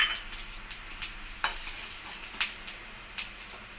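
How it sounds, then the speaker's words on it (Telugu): Coriander seeds, cumin and dried chillies dry-roasting in a pan for gongura chutney, a faint crackle with occasional scraping stirs and short clinks, no voices. "ఇప్పుడు ధనియాలు వేయించుకుందామండి. ధనియాలు, జీలకర్ర, మిర్చులు"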